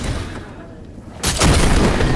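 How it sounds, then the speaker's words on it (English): Season 8 cannons firing in a video game, a sudden loud booming blast about halfway through that follows a quieter stretch of ambient game noise. "these are like the season 8 cannons"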